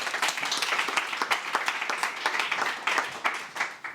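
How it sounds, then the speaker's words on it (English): Audience members clap for the founder of Clicks at a London talk, dense and lively applause with many distinct, sharp hand claps pulsing through a medium-sized room. "If everyone could give Adrian a big round of applause, that'd be great."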